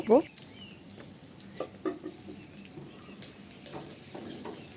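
Cumin, garlic, onion and green chilli frying in hot tempering oil for dal give a low, steady sizzle and crackle. A few soft clinks of stirring break through, and a sharper burst opens it at the start.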